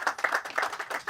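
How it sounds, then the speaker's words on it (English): Applause for a teen mother's testimonial at a graduation ceremony for teen mothers: a short burst of hand clapping from an indoor audience, moderately loud with uneven bursts. "I want you to give her another round of applause."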